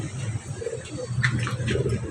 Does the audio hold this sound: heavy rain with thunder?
no